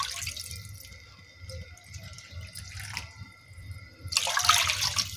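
Water pours from a cup into a pan set on a lit stove for cooking rice, a splashing stream at the start and again more loudly at the end, with faint dripping in between.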